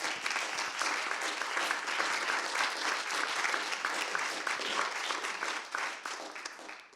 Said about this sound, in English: Perhaps we could give them a round of applause.